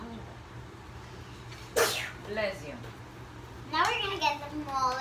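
A sneeze bursts out once, sharp and close, during a kitchen session making Mexican tamales with corn husks; a voice and other speech follow around it.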